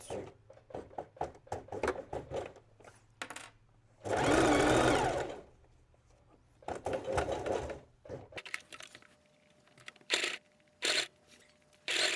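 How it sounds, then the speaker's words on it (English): A sewing machine top-stitches a seam around a collar in close, whirring bursts. Short runs of stitching alternate with pauses, with one long continuous run in the middle. "now we simply do a top stitch seam all the way around."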